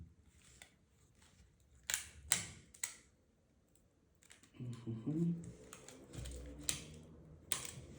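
Prying apart a dented iPhone 5 with its steel plate: sharp scattered clicks and snaps of parts being pulled loose, close and fairly faint, with a voice speaking partway through.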